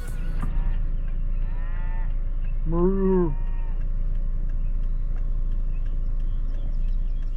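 A single cow moos once, loud and fairly near, a brief low call over a constant low rumble of wind or engine noise.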